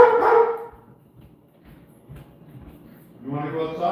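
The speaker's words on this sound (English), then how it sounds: "let me go lower the sound of the dog for a second" A pet dog barks a few times at the start and again near the end, fairly close and loud, with a quieter stretch of low household noise in between.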